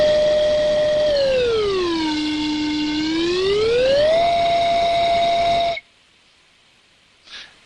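A bright electronic tone with harmonics glides smoothly down in pitch, holds low, then sweeps back up to its starting level before stopping abruptly, heard alone and fairly loud.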